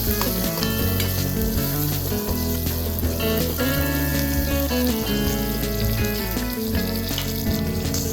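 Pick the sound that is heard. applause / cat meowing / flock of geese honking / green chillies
green chillies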